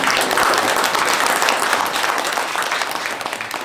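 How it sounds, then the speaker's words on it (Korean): An audience at a Korean political event applauds as a lawmaker enters, with loud, dense clapping sustained across the whole stretch and little else audible. "여러분들 큰 박수 부탁드립니다."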